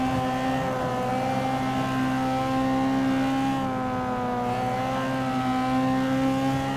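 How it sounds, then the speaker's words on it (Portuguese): A Porsche 718 RS 60 racing engine in Forza Motorsport hums at high, steady revs with a clear tonal whine, dipping and rising slightly as it holds speed. "Que som de motor, hein? Que somzinho de motor."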